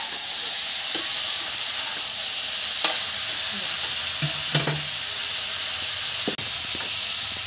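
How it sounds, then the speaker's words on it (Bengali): Vegetables for a Bengali mixed veg curry frying in a pan give a steady, broadband sizzle throughout, broken by a few soft clicks and stirring scrapes, close and fairly loud, with no talking. "সবজিগুলো ভালো করে ভেজে নেবেন"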